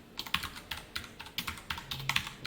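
Typing on a computer keyboard nearby, a steady run of crisp, evenly spaced key clicks with occasional louder strokes, with no talk over it.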